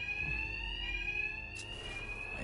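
A bank alarm in the video game Batman Arkham Knight rings as a steady, continuous electronic tone, loud and constant, with a short burst of another game noise partway through and no talking.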